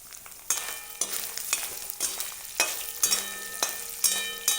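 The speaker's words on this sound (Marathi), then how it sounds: "त्याच्यानंतर हे अदरकचं तुकडं आहे ते पण तेलावर टाकते मी" Ginger pieces sizzle and crackle as they fry in hot oil for a village-style mutton dish, a steady loud frying hiss with bursts of spatter and stirring scrapes repeating about every half second.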